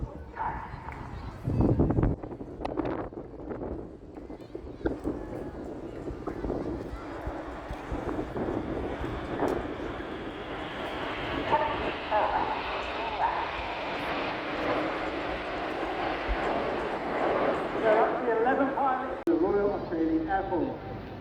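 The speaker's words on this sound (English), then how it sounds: "As the team roll out, there is no mistaking the wonderful and majestic shape of Concorde" Red Arrows jets roll out in a Concorde formation at the Eastbourne air show, a broad jet roar swelling and holding across the sky, heard beneath continuous commentary and wind buffeting.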